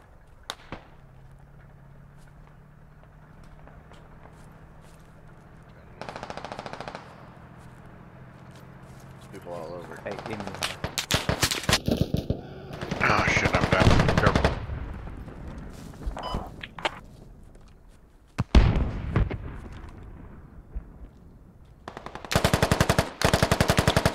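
Machine gun fire in the military shooter game Squad, with bursts of suppressing fire, sharp gunshots and heavy booms mixed among quieter stretches, while voices talk over the action.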